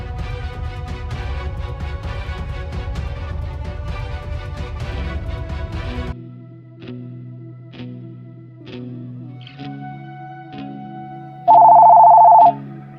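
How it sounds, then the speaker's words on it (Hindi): A telephone rings in a rural Pakistani drama, a steady electronic ringtone of repeated tones that starts after music stops, with a louder tonal burst near the end. "फोन आ रहा है"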